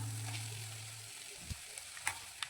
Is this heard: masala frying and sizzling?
yes